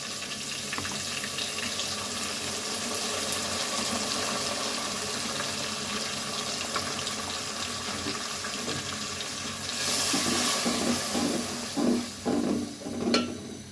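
Garlic, ginger and green chili pastes sizzle in hot oil with a continuous close hiss that swells louder near the end, where a few sharper bursts of spattering stand out, and no voice over it.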